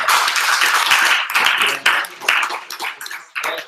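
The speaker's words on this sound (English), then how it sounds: "Give a round of applause" A room full of people claps, a dense burst of applause that gradually thins into scattered claps before fading.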